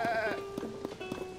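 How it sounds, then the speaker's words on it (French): Goat in the video game Zelda: Tears of the Kingdom bleats with a wavering call, followed by soft thudding steps, close and clear. "Belle chèvre."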